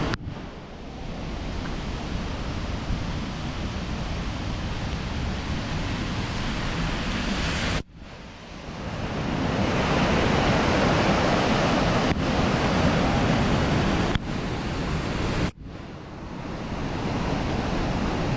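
Fast-flowing floodwater rushing after heavy rain at a rural homestead, a loud continuous roaring wash with wind buffeting the microphone, broken by a few abrupt cuts.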